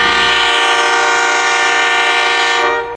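Model train of a GE C44ACI locomotive with a Nathan Airchime K5UL-AU-LS Australian-spec horn sounding one sustained, loud multi-tone chord blow that holds steady for about three seconds and then cuts off, alone with no voices.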